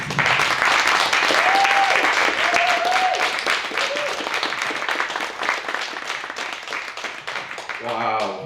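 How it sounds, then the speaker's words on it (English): Loud, sustained applause from a sizeable crowd after a speech, with scattered cheers and whoops rising above the clapping, which tapers slightly before a voice speaks at the end. "Give Adam another round of applause."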